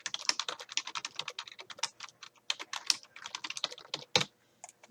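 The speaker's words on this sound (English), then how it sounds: "so let me type that sentence." Typing on a computer keyboard: rapid, irregular close key clicks in quick bursts with short pauses, one louder thump near the end, then quiet.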